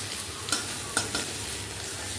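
Onion, garlic, grated ginger and green chillies fry in hot oil, giving a close, steady sizzle broken by a few scraping stirs and clinks of a utensil.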